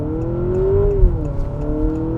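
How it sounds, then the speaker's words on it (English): A 2024 Honda Accord RS in sport mode accelerates from inside the cabin, its engine note rising and dipping in stepped pitch shifts like simulated gear changes, a moderately loud low rumble. "Bit of sporty engine noise."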